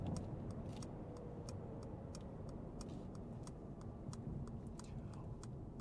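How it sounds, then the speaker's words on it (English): Turn signal of a 2025 Mercedes-Benz G580 EQ ticking in a steady rhythm of sharp, quiet taps under a low cabin hum, with faint talking at the start. "Things like the turn signal sound,"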